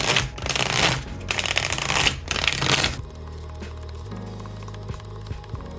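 A deck of playing cards with the jokers removed is shuffled up close, quick riffling bursts repeating about three times, followed by quieter soft card handling.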